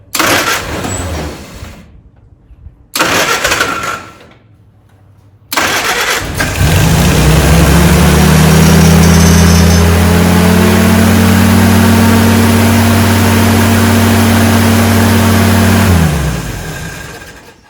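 An old barn-find Willys engine cranks in short bursts with pauses, then catches and settles into a loud, steady idle that holds for about ten seconds before tapering off as it shuts down.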